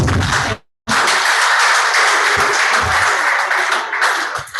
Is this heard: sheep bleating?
no